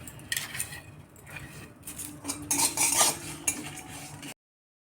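Cumin, puffed rice, garam masala and dried chilli dry roasting in a pan, with a spatula scraping and clinking against the metal in uneven bursts, close and fairly quiet, growing busier toward the end.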